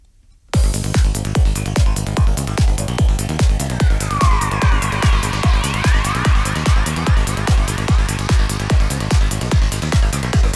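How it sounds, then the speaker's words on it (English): A steady psytrance electronic beat with a rising, wailing synth tone like a siren sweeping over it, smeared with reverb, loud and rhythmic, with no voices. "So now with adding a little bit of reverb, we're going to get something that sounds like this."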